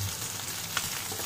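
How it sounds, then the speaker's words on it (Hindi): Chopped green chillies frying with other ingredients in a pan, an even close sizzle with a single brief clink partway through, nobody speaking. "तीन हरी मिर्च चॉप कर लिया है, ये भी डाल देंगे। और अच्छे से हम तीनों चीजों को फ्राई करेंगे।"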